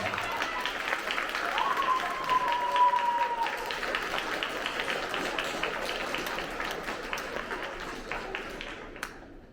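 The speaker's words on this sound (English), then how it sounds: "Let's give this row a big round of applause." A crowd of students and families applauds an eighth-grade honor roll row, a steady wash of many hands clapping that carries evenly throughout, with a brief voice rising over it partway through.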